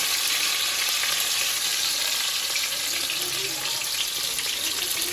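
Tomatoes drop into oil with crackling cumin seeds in a hot pan, producing a steady, close, bright sizzle that holds evenly throughout with no talking.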